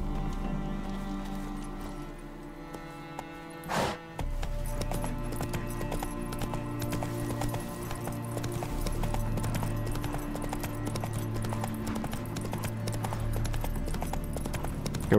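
Steady clip-clop of horse hooves trotting at an even pace in the video game The Witcher 3: Wild Hunt, with a brief thump partway through and a low ambient hum underneath.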